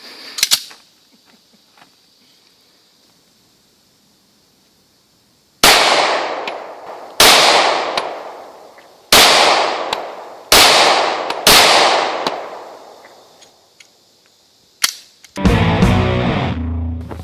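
Six loud, sharp pistol shots from a P6 fired deliberately for accuracy, spaced a second or two apart at close range, followed by a rattling metallic clatter, with no talking.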